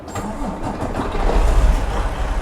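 A bus engine in Euro Truck Simulator 2 cranks and turns over into a low, rumbling idle that builds slightly louder toward the end, with no voices.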